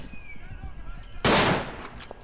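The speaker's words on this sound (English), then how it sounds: "Our artillery doesn't hit shit." A single heavy artillery round landing in the Day of Defeat shooter game: a loud, sharp close blast that rumbles and decays, following a stretch of low background battle noise and a few faint shots.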